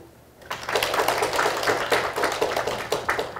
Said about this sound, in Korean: 발표를 해주신 문주연 교수님께 다시 한번 큰 박수 부탁드립니다